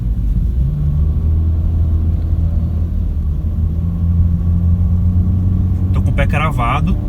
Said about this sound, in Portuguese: Aqui um exemplo de funcionamento do câmbio CVT do Honda HR-V em uma subida íngreme.